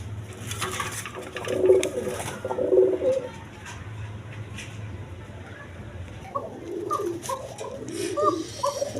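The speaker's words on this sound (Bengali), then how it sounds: "এইখানে এক পেয়ার হাই ফিলিং গিরিবাস কবুতর" High-flying Giribaz pigeons cooing close by, soft throaty coos in two bursts early on and a cluster near the end, over a low steady hum and faint background chatter.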